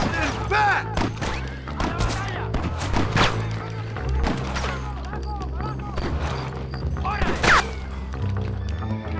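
Horses neigh and whinny several times over clopping hooves, thuds and scattered gunfire in the video game Red Dead Redemption, with some talk in the mix.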